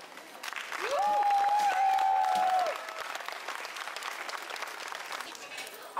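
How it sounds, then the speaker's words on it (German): Outdoor crowd applause at a medieval knight-fighting show during a castle siege festival, steady clapping that swells and then eases, with a long whistle-like tone across the first seconds. "Ich darf einen Applaus für Remus von der Burgschmiede bitten"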